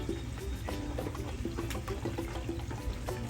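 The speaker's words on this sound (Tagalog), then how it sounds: "Lagyan natin ng konting tubig." A little water poured into a pan of tofu and pork, a steady close trickle and splash with faint bubbling and small clinks running throughout.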